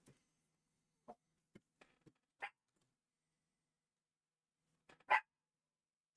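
A small dog gives a few short, sharp barks and yips, spaced irregularly with silence between them, close and clear, the loudest bark coming near the end.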